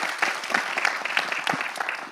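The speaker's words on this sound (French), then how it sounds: "On peut applaudir." Brief applause from an audience at a political gathering in Marseille, with individual claps standing out in a loose, steady patter at moderate volume and no talking over it.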